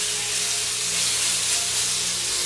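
Ground beef being spread around a hot pan gives off a loud, steady sizzling hiss, close up and continuous for the whole stretch, with no voices.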